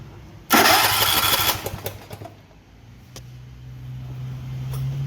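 A riding mower engine cranks and catches with a sudden loud burst, then settles into a lower, uneven running idle that slowly steadies.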